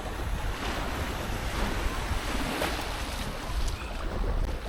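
Ocean waves breaking at Rest Bay, Porthcawl, filling every moment with a steady, loud wash of surf and spray, buffeted by wind noise on the microphone, with no voices.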